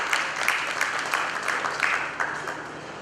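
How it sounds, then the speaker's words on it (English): An audience applauds to welcome a speaker at a business talk on e-commerce in India, a steady wash of many hands clapping at moderate volume for about three seconds, with no voices over it. "A round of applause, please."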